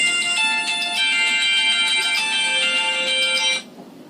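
A Poco F3 phone rings steadily during an outgoing DITO-to-DITO video call, a bright repeating electronic ringtone that plays loudly for about three and a half seconds, then cuts off to near silence.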